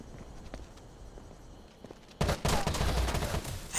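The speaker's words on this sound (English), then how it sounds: "I'm just gonna shoot him with the FAMAS" FAMAS rifle fire in a video game: a quiet stretch of faint footsteps and shuffling gives way to a loud, sustained burst of rapid automatic shots.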